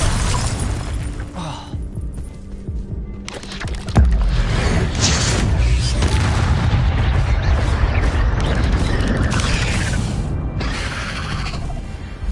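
An Incendio fire spell cast in Hogwarts Legacy, a sudden loud burst followed by sustained roaring, crackling flame and clattering, shattering effects that fill the clip.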